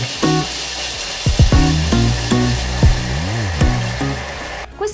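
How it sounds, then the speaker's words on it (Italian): A food processor motor whirs loudly in uneven pulses, its pitch dipping and rising as it grinds peanuts into peanut butter, close up with no voices. "Mettete le vostre arachidi all'interno e iniziate a tritare."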